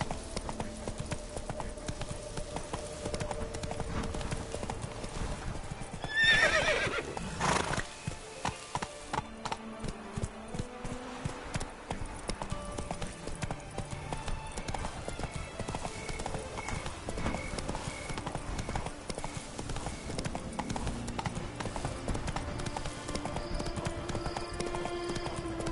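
Horse hooves clip-clop in a steady rhythm in The Witcher 3: Wild Hunt, close and clear alongside game music and ambience, with a whinny-like burst partway through.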